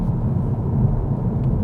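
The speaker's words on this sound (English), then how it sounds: "So the engine started. Now it makes very little engine noise." The petrol engine of a Vauxhall Astra plug-in hybrid drones low, smooth and quiet, a soft steady rumble with no revving or changes over the short stretch.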